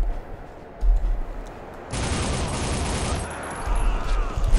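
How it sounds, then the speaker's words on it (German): Rapid SMG fire in the shooter game Soldier of Fortune, a sustained burst of tight automatic shots starting midway and running about a second and a half, with heavier thuds before and after. "Das SMG ist einfach so mega stark"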